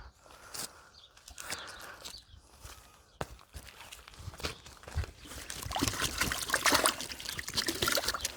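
Water trickles and splashes while freshly harvested elephant garlic bulbs are rinsed, with intermittent dribbling and handling noises growing louder toward the end.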